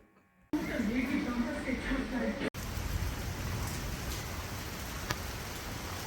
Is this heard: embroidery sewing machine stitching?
no